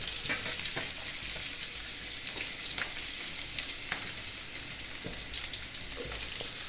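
Mustard seeds and chopped garlic fry in hot oil in a pan, giving a close, steady sizzle with small pops and brief crackling bursts throughout, no voices present.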